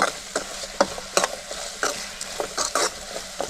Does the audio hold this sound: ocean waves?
no